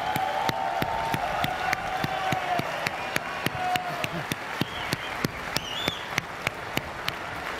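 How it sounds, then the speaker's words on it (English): An audience at the Google I/O conference claps for stunt bike riders, with a soft crowd murmur and scattered cheers under a steady, evenly spaced beat of sharp claps that grows crisper toward the end. "a big round of applause for our bikers"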